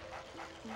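A dog barks once, short and faint, in the video game Luigi's Mansion, with no voices over it.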